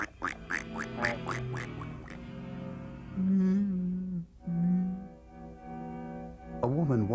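A duck quacks repeatedly in an old science-fiction film soundtrack, loud nasal honks in rapid series over a background hum, with further quacks returning near the end.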